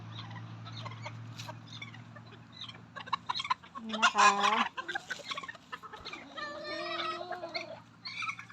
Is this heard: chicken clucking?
yes